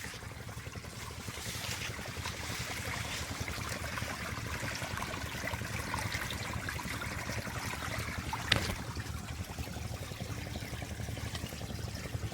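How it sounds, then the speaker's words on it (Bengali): Steady rushing of irrigation water flowing continuously into a crop field, a broad watery roar with a brief thump partway through; no voices. "তো এই যে দেখেন পানি মোটামুটি আসতেছে"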